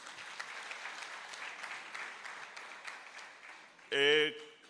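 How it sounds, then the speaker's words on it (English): Faint, distant applause from delegates in a large conference hall at a provincial party conference, fading before a short burst of amplified voice or tone near the end. "We can give ourselves a round of applause."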